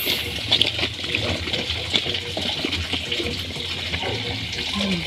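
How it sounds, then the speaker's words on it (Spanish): Clothes are scrubbed by hand with soap at an outdoor concrete washtub, with steady running and splashing water throughout, moderately loud and close, and faint voices now and then underneath. "me encanta a mí lavar en lavadero"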